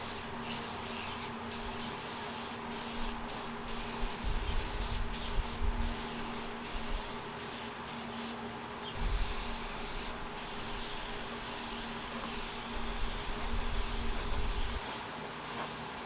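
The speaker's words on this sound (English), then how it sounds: "We're using some Rust-Oleum, Satin Canyon Black, 2X Ultra Cover." Rust-Oleum Satin Canyon Black 2X Ultra Cover spray paint hissing from the can in a long run of bursts, each spray broken by short gaps, close and steady over a faint low hum.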